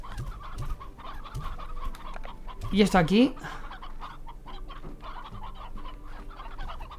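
Chickens cluck in the video game Slime Rancher, with a louder burst of clucking and squawking near the middle over steady game background sound, while someone speaks Spanish briefly.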